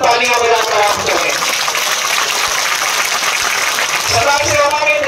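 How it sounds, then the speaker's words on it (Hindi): A crowd at a public rally in Pakhanjur claps steadily, a dense, continuous wash of applause that holds at full loudness throughout without a break. "अपना स्वयं स्वागत तालियां बजाकर आप करें।"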